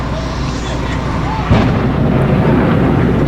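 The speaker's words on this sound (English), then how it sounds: "Secondary explosion inside." A heavy explosion in news footage of the World Trade Center, a sudden loud boom rising out of a steady roar and rumble and lingering afterward.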